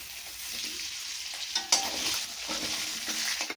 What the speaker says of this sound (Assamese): এয়া মোৰ আলু ফ্ৰাই হৈ আছে।